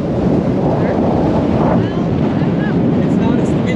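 Strong wind roars and buffets steadily across the microphone on a boat deck on open water off Maui, a loud constant rumble with faint voices buried beneath.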